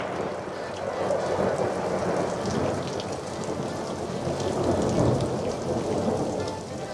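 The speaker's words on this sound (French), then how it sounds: "la pluie a décidé d'ouvrir les festivités" Steady heavy rain pours onto surfaces in a village in the Gard region of France, a dense continuous hiss with a low rumble of thunder rolling underneath, no voices present.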